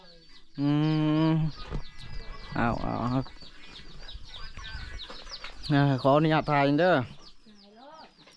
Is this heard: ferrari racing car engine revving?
no